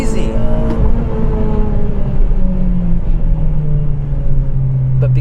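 Honda Civic Type R FD2 with a K20 engine, heard from inside the cabin while driving: a loud, steady engine drone with whining harmonics that climb gradually over a heavy low rumble.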